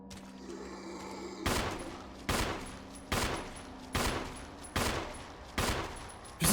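Six evenly spaced gunshots from a weapon in the video game Resident Evil 1, each a sharp crack with a short decay, fired in a steady rhythm over a low background hum.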